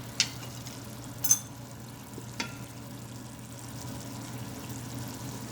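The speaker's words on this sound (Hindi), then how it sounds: "ये देखिए मसाला पक रहा है इसमें।" Masala spice paste for chicken yakhni pulao cooking in a pan, a soft low sizzle running steadily with a few sharp clicks of a spoon against the pan near the start.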